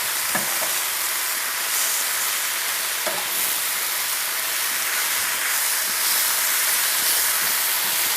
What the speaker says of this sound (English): Stir the spinach frequently so that it gets wilted on all sides.